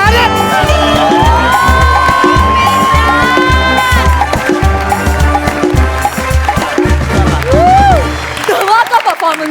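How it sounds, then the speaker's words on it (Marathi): A comedy stage show audience applauds and cheers loudly through steady rhythmic music, with crowd noise and voices mixed in throughout. "जोरदार टाळ्या"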